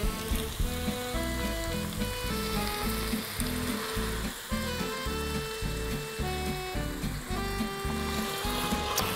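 Whole peeled tomatoes with tomato paste bubble and fry steadily in a pan, a dense close sizzle with some stirring underneath, continuous throughout.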